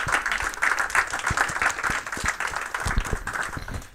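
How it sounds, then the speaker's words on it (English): An audience at a game studio build review claps in a dense, even round of applause lasting the whole stretch, moderately loud and fairly close, with no speech over it. "please give your online team members a round of applause as well"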